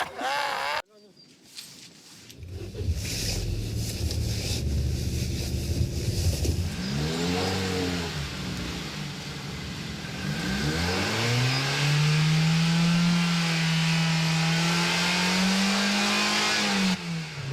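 Car engine revving hard and accelerating, pitch sweeping up and down in repeated surges before holding a loud sustained rising drone, heard from close by with a brief cut at the start.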